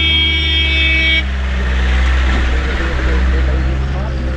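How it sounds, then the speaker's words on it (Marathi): Traffic rumbles steadily with engine noise from passing vehicles, loud and near, under a person speaking, on a road in Jammu and Kashmir. "गाड्या वगैरे पण जात आहेत"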